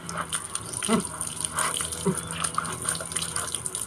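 Water is poured over a young male dog during a bath, a faint, steady gushing splash with soft intermittent sounds on top.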